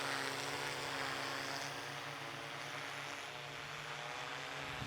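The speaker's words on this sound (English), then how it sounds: "The GPSs are currently keeping the drone stabilized in its position." A hovering drone's spinning propellers give a steady, loud droning hum with constant tonal whine, held stable in place without pause; no talking.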